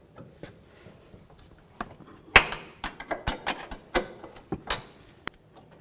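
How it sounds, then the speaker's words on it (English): Metal wrench clicks and ratchets on a 14mm control arm bolt of a 2008-12 Chevy Malibu front suspension, a run of close, sharp ticks and clanks building in an irregular rhythm, no talking. "let's remove this bolt right here using our 14mm wrench"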